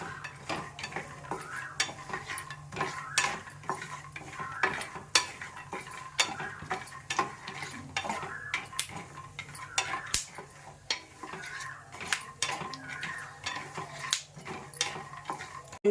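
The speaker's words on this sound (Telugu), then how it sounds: "మంట మీడియం ఫ్లేమ్ మీద పెట్టేసుకొని వేయించుకుందాం." Repeated scraping and clinking of a utensil stirring in a pan over medium flame, irregular rhythmic strokes over a faint low sizzle, close and without talk.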